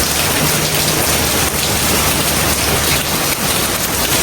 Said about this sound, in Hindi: ये देखें, इस कदर तेज बारिश हो रही है